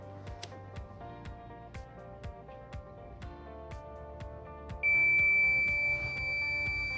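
A sanitizing cabin's temperature alarm goes off with a sudden loud, sustained electronic tone after several seconds of ticking and beeping clicks, the steady alarm tone continuing to the end.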